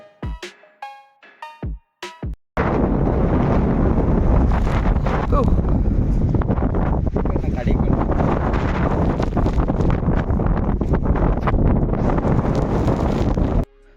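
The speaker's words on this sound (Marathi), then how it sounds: "जोराचा वारा असल्यामुळे असा एक अविस्मरणीय क्षण कॅमेऱ्यात टिपला" Strong wind roars across the microphone atop Prabalgad hill fort during monsoon rain, a loud, continuous buffeting gust that cuts in abruptly after a few seconds of short sharp sounds and holds for the rest.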